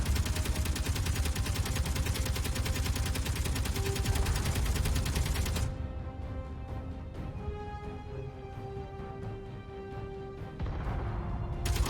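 Sustained automatic gunfire in Space Engineers during a survival attack, a dense continuous rattle for about six seconds, then thinner scattered shots over humming tones and a final short burst, loud and close.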